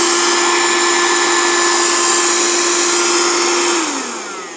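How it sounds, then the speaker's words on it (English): A rose gold handheld car vacuum cleaner runs with a loud, steady motor whine and airy rush close up, then winds down as it switches off near the end. "to turn it on, just push it forward"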